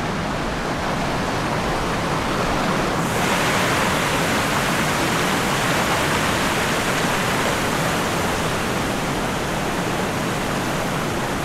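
Floodwater pouring off fields during a countryside walk in Cours, Lot, a loud, continuous rushing roar like a torrent that stays steady throughout with no voices.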